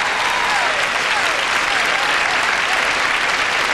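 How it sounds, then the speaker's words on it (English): A telethon studio audience applauds as a guest leaves the stage, a steady, dense roar of clapping that holds loud and unbroken for nearly four seconds. "Let's take him off with a real cheer."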